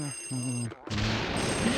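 A telephone rings in the video game Luigi's Mansion, with a steady electronic trill that cuts off briefly and then gives way to a louder, noisier burst of game sound.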